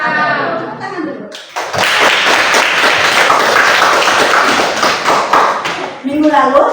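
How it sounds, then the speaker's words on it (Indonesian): Children in an Islamic studies classroom clap their hands together in a dense burst of rhythmic claps, loud and close, lasting several seconds between bits of a teacher's voice. "Tepuk tangan dulu."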